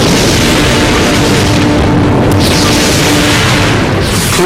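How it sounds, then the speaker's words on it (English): Krakatoa's 1883 volcanic eruption comes through as a loud, continuous, booming roar that fills the whole span without a break, deep and rumbling like explosions merging together, with no voices. "The morning calm is shattered by one massive explosion after another."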